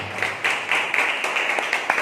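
A church congregation clapping together in praise during a Sunday worship service, steady, dense rhythmic hand claps close by, sustained for a couple of seconds with no talking.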